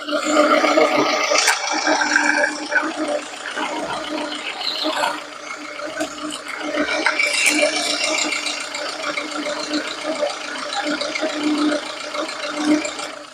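A close Lada Kalina engine misfiring at idle runs roughly with a clattering, rattling texture, its loudness wavering unevenly throughout with occasional louder surges.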